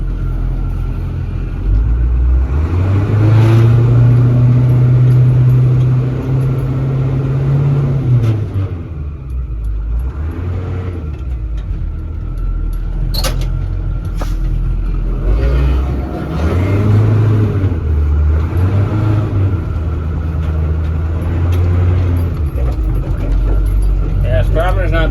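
Ford F8000 truck with a 636ci V8 engine driving, a loud close low rumble that climbs and falls as it holds each gear a long time, with a person talking over the engine.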